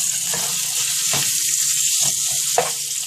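A skirt steak pinwheel sizzling in a hot pan, a steady close frying crackle with a few soft thumps and scrapes as it is moved, no voices.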